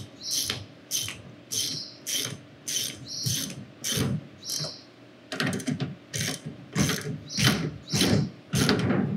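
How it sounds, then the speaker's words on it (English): Ratchet wrench tightening the clamp on a Ridgid 915 pipe grooving machine, giving a close series of sharp clicking bursts in uneven rhythmic spurts with short pauses between strokes. "I'm going to make sure it remains flush as I tighten it with this ratchet wrench"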